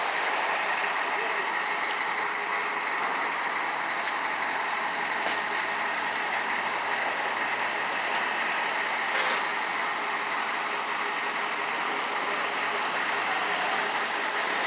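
A large truck waiting at a salt spreader loading site gives a steady, continuous engine drone throughout, with a few faint clicks and clanks in the background.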